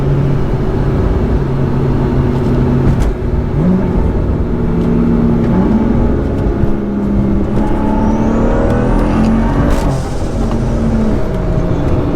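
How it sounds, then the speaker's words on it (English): A BMW 435i fitted with methanol injection, in sport mode, accelerating hard from inside the cabin, engine tone rising steadily through the gears with loud continuous drone and shifting harmonics. "I'll drop it in sport so we can hit the boost a little bit faster"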